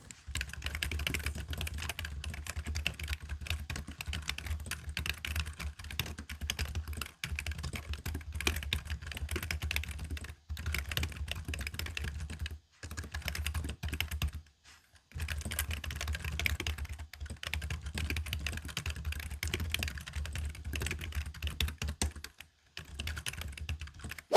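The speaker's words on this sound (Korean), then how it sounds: "마지막으로 타건음 들려드리겠습니다" Steady, soft typing on a Logitech Wave Keys ergonomic keyboard, a continuous patter of quiet keystrokes with a few brief pauses, close and alone.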